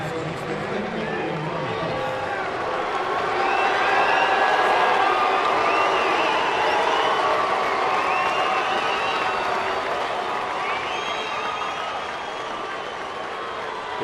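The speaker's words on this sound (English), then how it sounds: "Predominantly welcome home cheer for Gonzalez. There were a few boos, some fans unhappy that he left town." Baseball crowd at a Dodgers game at San Diego greets Adrian Gonzalez stepping up to bat with a broad, sustained cheer mixed with a few boos, swelling after a few seconds and holding steady, with a busy stadium murmur throughout.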